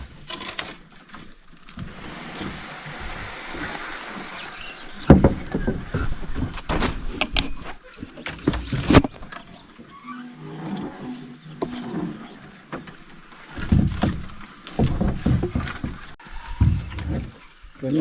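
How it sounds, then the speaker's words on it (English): A canoe paddled along a creek gives splashing strokes and knocks of the paddle against the hull, irregular and close, over a steady outdoor background with no talk. "I'm going to paddle."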